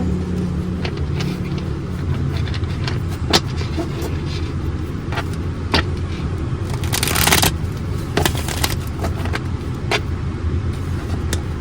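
Playing cards shuffled by hand, a brisk riffle burst standing out briefly against a steady low rumble and background noise, with scattered soft clicks throughout.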